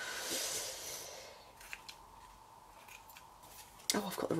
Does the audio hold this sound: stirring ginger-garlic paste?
no